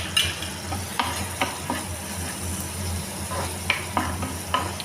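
Ginger garlic paste frying with chicken pieces for chicken Manchurian, a close, steady sizzle broken by sharp scraping stirs and clacks of a utensil against the pan, with no voices.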